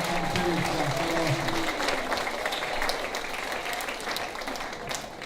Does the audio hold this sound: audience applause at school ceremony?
yes